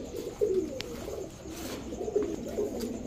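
Pakistani pigeons, kept as fancy breeds like Teddy and racer, give soft, throaty coos in a few short repeated phrases close by, over a quiet background.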